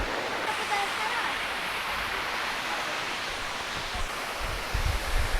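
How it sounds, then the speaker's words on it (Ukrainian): Constant rushing water noise from the small Narinetskyi waterfall nearby, steady and broadband with a little low rumble toward the end. "Отакий водоспадик на Рінецький."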